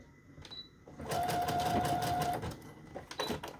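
A sewing machine stitches fabric and lace snippet pieces together, its motor whirring steadily for about a second and a half before stopping, with a few short clicks and handling noises around it.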